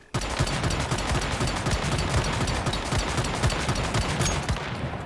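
Rapid automatic gunfire from the Jaws gun loaded with tungsten pistol ammo in Once Human, a loud, sustained burst of closely spaced shots that runs nearly unbroken from start to finish.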